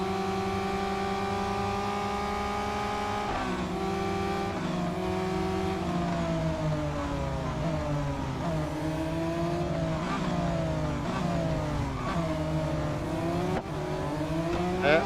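Race car engine in the mobile racing game Real Racing 3, loud and continuous, its pitch rising through the gears and dropping at each shift, with a brief tire squeal and no voices.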